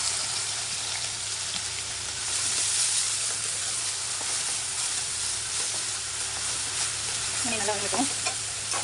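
Quail masala with coriander, onion and green chilli fries steadily in a pan after a generous pour of oil, a loud, close and constant sizzle with faint stirring, and a brief voice near the end.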